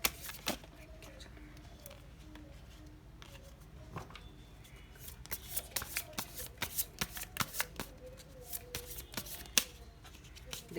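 Tarot cards being shuffled by hand, soft riffling and flicking with a rapid run of crisp card snaps building toward the end, close and fairly quiet, with faint talk underneath.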